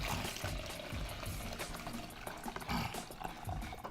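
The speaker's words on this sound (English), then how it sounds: "Now I have water on these potatoes, so I'm gonna drain the water off here" Water is drained off cut potatoes in a kitchen, giving a continuous close splashing pour with gurgles and rattles, fairly loud and without talk.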